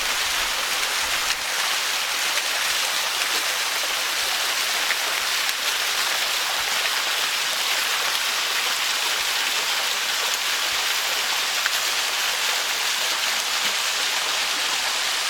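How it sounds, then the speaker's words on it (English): A small waterfall in the Australian bush gives a steady, even rush of falling water that fills the whole stretch without a break or any voices. "Oh yeah, there's a little waterfall up there."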